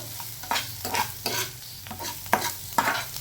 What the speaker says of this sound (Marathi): तळून घेऊया तेलामध्ये, म्हणजे फ्राय करून घेऊ.